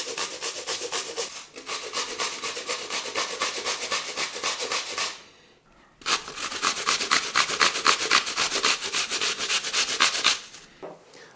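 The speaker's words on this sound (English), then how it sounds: "I'm just going to grate them into this bowl down to the core." Whole Bramley apples, unpeeled, grated against a grater into a bowl, a steady rapid rasping scrape in two long close bursts separated by a brief pause.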